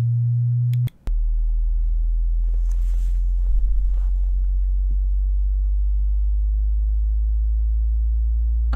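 A speaker test tone hums as a steady, very low sine tone around 50 Hz, briefly preceded by a higher tone that cuts off, continuing alone under faint room noise.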